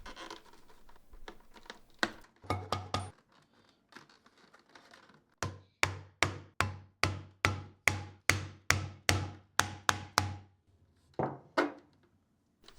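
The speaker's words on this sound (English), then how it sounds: "For these rivets here you get in there with a hammer right away." A hammer drives a setter onto rivets in a leather bag: after a few scattered knocks comes a steady run of about a dozen sharp, evenly spaced strikes, then two more, close and loud.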